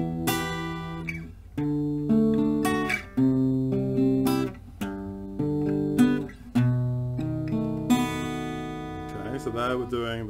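Guitar fingerpicking: clear picked notes in an arpeggiated pattern, each string ringing over the next, played alone and close at a moderate volume.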